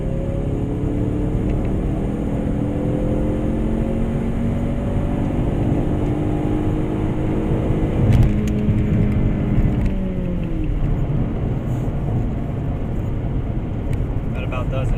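An Ecoboost Mustang cruises on a highway in third gear, giving a steady, close engine drone with tones that slowly rise and fall, while a voice talks over it.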